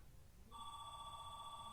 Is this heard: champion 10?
no